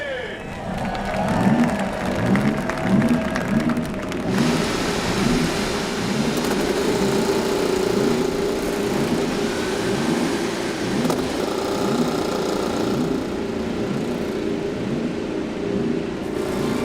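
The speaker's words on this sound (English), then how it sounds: "start your engines!" A crowd cheers as several IndyCar race car engines fire up and roar together at the 2016 St. Petersburg race start, a loud sustained drone with rising revs and background voices.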